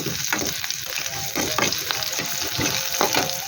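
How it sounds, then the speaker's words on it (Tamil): Onions sautéing in a pan, with a steady close sizzle broken by repeated scraping stirs across the pan, no voices. "வெங்காயம் சேர்த்து நல்லா கிளறி விட்டுக்கலாம் பாருங்கள் நல்லா வதக்கி விட்டுக்கலாம்"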